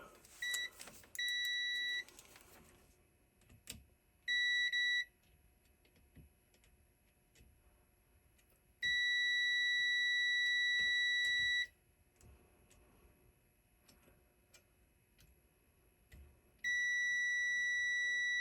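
A BRK 77R multimeter in continuity mode gives several steady, high-pitched electronic beeps of varying length, from short bursts to one lasting about three seconds, with faint clicks of probes between them in a quiet room.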